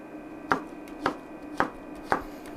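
A knife dices mushrooms for a vegan Bolognese, four crisp, evenly spaced chops on a cutting board, close and distinct, with no talking.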